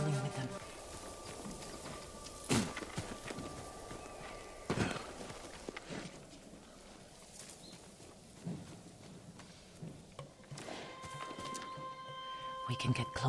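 Horses ridden in Ghost of Tsushima, hoofbeats clopping under game music, ambience and a character speaking.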